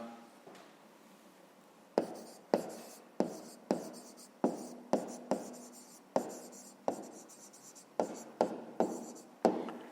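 Pen or pencil writing by hand on paper while solving a rectangle perimeter exercise from a fifth-grade maths book: a string of quiet scratchy strokes with sharp taps at the start of each, close and soft, no talking.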